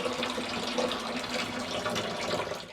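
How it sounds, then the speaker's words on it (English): Water drains steadily out of the hoses of a Navien tankless water heater during descaling maintenance, a continuous close splashing gush that holds at an even level through the whole stretch with no talk. "So now we're draining the hot water heater."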